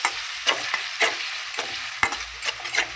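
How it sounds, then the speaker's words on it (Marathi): Carrots frying in oil with tempering, a light sizzle punctuated by regular stirring scrapes and clinks of the spoon against the pan, close up with no talking. "आता त्याच्यामध्ये आपण गाजर टाकूया. त्याला 2 मिनिटं ठेवून मग नंतर याच्यामध्ये टोमॅटो ॲड करायचा. आपण तेलामध्ये फ्राय करते."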